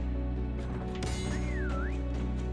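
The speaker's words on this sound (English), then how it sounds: "I literally whistled in his little ear hole" Whistle taunt in a prop hunt video game, a short gliding tone that dips and rises near the end over a steady low game hum and some clicks.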